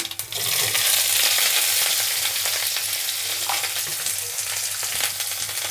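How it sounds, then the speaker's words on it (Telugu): Chopped garlic and onion pieces fry in hot oil, a loud, dense, continuous sizzle heard up close with occasional stirring clinks and no talk. "వేగిన వెల్లుల్లి ఉల్లిపాయ ముక్కలు"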